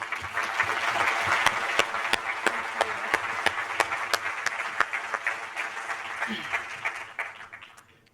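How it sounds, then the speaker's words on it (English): An audience at a business lecture gives a warm round of applause to a speaker and graduate of an executive MBA program; dense clapping with sharp individual claps, slowly thinning and fading out near the end. "Please give her a very, very warm hand of applause."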